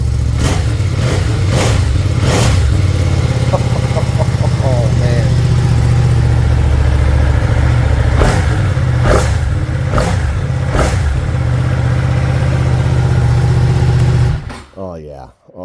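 A 2023 Ducati Streetfighter V2 motorcycle engine idling with a deep, loud, throbbing rumble close by, broken by several quick sharp throttle blips and revs. Someone speaks briefly over it before the engine cuts off at the end.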